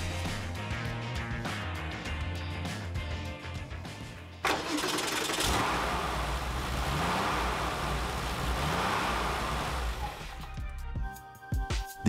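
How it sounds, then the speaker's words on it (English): An air-cooled six-cylinder boxer engine from a Porsche 993, fitted in a VW Karmann Ghia, cranks and catches, then settles into a loud, rough, steady idle with a throaty rumble before cutting off near the end. "an air-cooled six-cylinder boxer engine from the Porsche 993"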